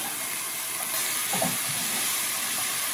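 Carrots, onion and garlic sautéing in olive oil give a steady, broad sizzling hiss that holds throughout with no talk.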